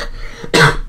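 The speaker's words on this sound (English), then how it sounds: "that cough." A single loud, harsh cough bursts out close by, followed by the start of another, after a quiet moment of faint background noise, during Minecraft gameplay.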